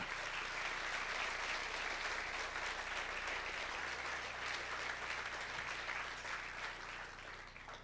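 A church congregation applauds the Lord with sustained, dense clapping, heard at a distance and fairly faint, steady throughout and tapering slightly at the end.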